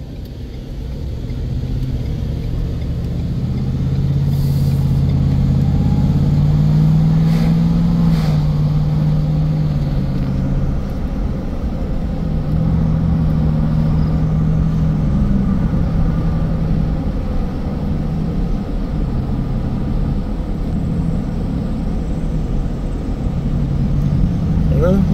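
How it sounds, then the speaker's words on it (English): A truck tows a trailer carrying a 3,500 lb Fairmont A-4 railroad motor car away from Medina, Ohio, with a loud, steady engine and road rumble running throughout, swelling slightly in places. "Fairmont A4 leaving Medina, Ohio after 7 years and 2 days."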